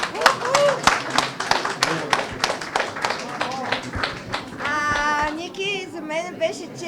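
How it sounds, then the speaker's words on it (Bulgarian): An audience claps for Mira Bachvarova at an arts event, with dense, lively clapping that mixes with chatter and people talking close by. "Но още веднъж аплодисменти за Мира."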